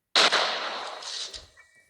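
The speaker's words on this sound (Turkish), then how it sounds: "bu mayına patlamayı çok seviyorum" A single sharp mine explosion in the video game Granny, a bright crackling burst that decays over about a second, followed by faint debris rattles and a low thump.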